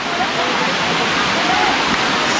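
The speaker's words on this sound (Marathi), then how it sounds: "हा दिसतो आहे तो आहे महादेव धबधबा" The Mahadev waterfall in the Satpuda hills near Chalthana roars as a dense, continuous rush of falling water, loud and steady throughout, with no pauses or other clear sounds.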